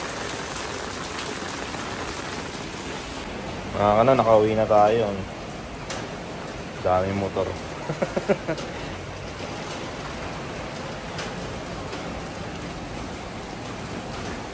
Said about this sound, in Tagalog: Lakas yung ulan